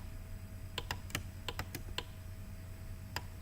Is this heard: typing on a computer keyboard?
yes